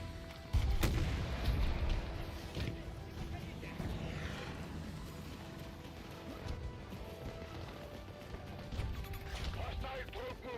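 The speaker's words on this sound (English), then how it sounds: "Who is shooting at me now, bro?" Gunfire in the shooter game Battlefield 2042: a heavy burst near the start, then scattered shots and booms over a dense, busy battle din.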